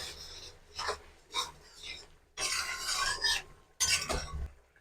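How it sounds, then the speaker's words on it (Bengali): Garam masala powder is stirred into a simmering egg omelette curry: a handful of short, soft scraping strokes with quiet pauses between them. "গরম মশলা গুঁড়োটা দিয়ে একটু নেড়ে নেব।"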